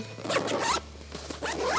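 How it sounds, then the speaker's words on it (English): A large U-shaped zipper is pulled open on the front pocket of a Kelty Women's Coyote 75 internal frame backpack, two close, loud zipping runs split by a short pause. "this big U-shaped zipper is really helpful for getting to gear on the bottom of your pack"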